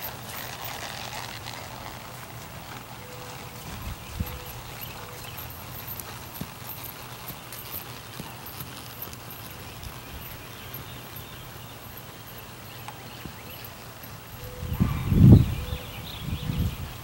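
Hoofbeats of a ridden horse prone to pacing tap out faintly and steadily in an outdoor setting, with a louder thump near the end.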